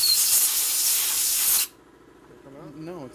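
Compressed air blasts through a nozzle into a 74ci shovelhead E carburetor under repair: a loud, close, continuous hiss for about a second and a half that cuts off abruptly, followed by someone speaking.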